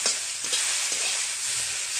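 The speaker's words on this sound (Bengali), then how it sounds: "কলমুখ শাক ভাজি" Greens fry in a pan while being stirred, giving a continuous close sizzle with faint scraping strokes through it.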